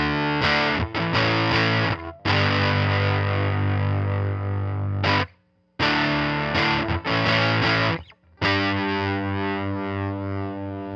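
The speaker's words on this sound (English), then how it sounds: "Fuzz would go on to be the effect that defined popular guitar music for the second half of the decade." Electric guitar played through a fuzz distortion effect rings out in loud, buzzing sustained chords and notes, broken by two brief silences before the thick, saturated tone resumes.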